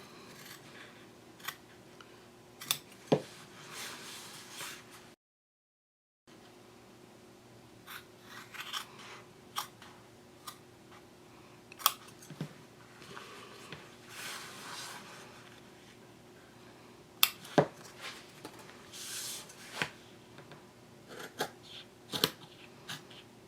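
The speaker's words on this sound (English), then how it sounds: "now I'll just take some scissors and cut out those squares on each side of the panel" Scissors snip through fabric in scattered short cuts, some in quick clusters, with a brief silent gap partway and quiet rustling between.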